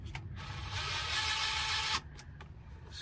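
A power driver on its lowest setting whirs for about a second while tightening a transmission pan screw on a 2018 Ford F250 Super Duty diesel, then cuts off sharply, leaving a quiet garage.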